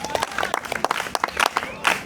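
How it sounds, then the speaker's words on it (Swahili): Audience clapping at the opening ceremony of a UMISSETA school sports competition in Ilala, a steady patter of many hands with some crowd noise, swelling again near the end. "Jipigieni makofi mengi sana."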